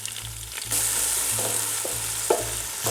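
Chopped tomatoes and a whole green chili fry in masala, a steady bright sizzle that swells louder after a moment, broken by a few soft clinks of a spoon stirring the pan.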